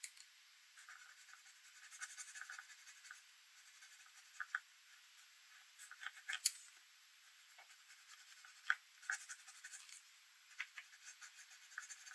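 Pencil shading on paper with a Cretacolor pencil, building dark areas in a drawing: soft, close scratchy strokes rubbing steadily, with several sharper ticks and scrapes scattered throughout and no voices.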